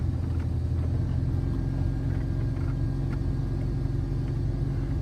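An automatic car being driven, heard from inside as a steady, loud low engine and road rumble that runs without a break, with no talking.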